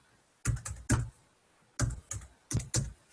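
Keys clack on a computer keyboard as an email address is entered, in three quick clusters of two or three close, crisp strokes separated by short pauses.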